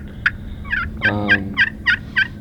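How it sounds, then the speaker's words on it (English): A wild Merriam's turkey lets out a loud rolling gobble during a northwest turkey hunt, framed by a quick string of sharp, rhythmic clucking bursts nearby. "Struck one bird. Gobbled 2 times"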